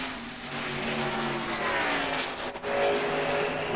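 Stock race cars roar past on an oval racetrack during a 1992 race, a dense, steady engine drone from several cars at once with a brief dip partway through.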